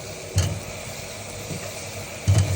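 Potatoes added to braising beef in a pot fry with a steady, moderate sizzle, broken by two dull thumps of stirring near the start and end.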